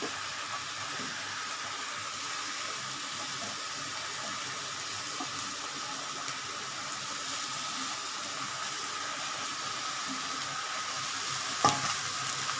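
Chopped onion and green chilli sizzle in hot oil in a pan while cooking egg tadka, a steady, dense frying hiss that stays even throughout, with one faint clink near the end and no talking.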